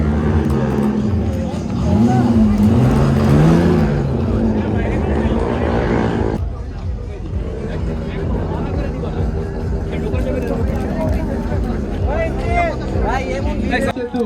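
A Toyota Chaser revs hard while doing donuts at Dhaka Motor Fest 2024, a loud rising and falling engine roar heard up close, with people talking and crowd noise throughout.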